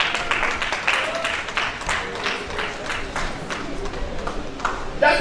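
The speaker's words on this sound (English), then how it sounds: "Clap for yourself." Students at a university project-writing workshop clapping in a hall, a steady patter of applause over about five seconds with no one speaking over it.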